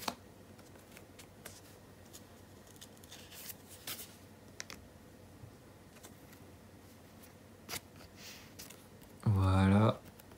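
A Magic: The Gathering card is slid into a perfect-fit card sleeve, producing soft scattered rustles and light plastic taps, then ending in a louder, brief scraping burst near the end.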